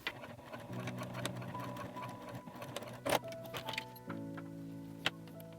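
A sewing machine stitches a D-ring onto a pet collar in rapid buzzing runs, starting and stopping with a few clicks and a brief clatter between bursts, close by and with no speech.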